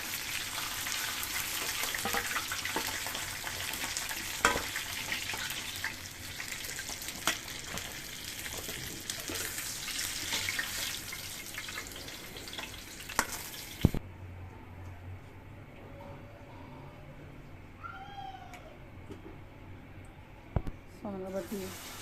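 Pomfret fish frying in hot oil, a soft continuous sizzle with occasional pops and clinks, the crackle dropping away partway through to quieter bubbling and light utensil sounds.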